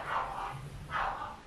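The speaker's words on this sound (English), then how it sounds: "My dogs are going insane." Dogs give two muffled barks about a second apart, moderately loud and somewhat distant, over background room noise.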